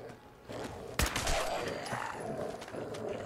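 A laser musket fires in the game Fallout 4, one sharp, loud crack followed by a crackling, sizzling tail and mechanical rattling, with faint talk in the background.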